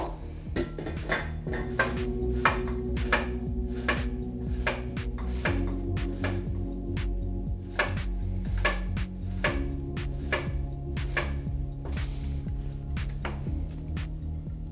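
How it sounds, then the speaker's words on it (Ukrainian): Ham is rubbed against a hand grater in quick, even strokes for a pizza-bun filling, a steady scratchy rhythm over a low background hum, with no talking. "Просто натираю на терці"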